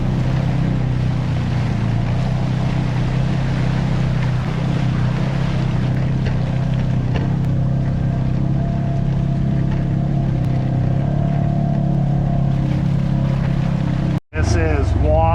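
Polaris RZR Trail Ultimate on Maxis Bighorn 2.0 tires churning through swamp water, with a steady loud engine drone and constant splashing throughout and a brief dropout near the end.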